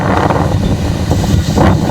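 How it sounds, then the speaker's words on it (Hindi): Strong wind and rain batter Paradip on the Odisha coast ahead of super cyclone Amphan, a loud, blustery roar buffeting steadily throughout. "लगातार बारिश हो रही, तेज़ हवाएं चल रही हैं।"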